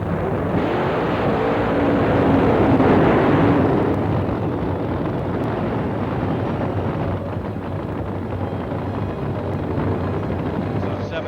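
Car doing a burnout with a supercharged 7-litre engine, a loud sustained roar and hiss of spinning tyres and engine that swells early then holds steady throughout.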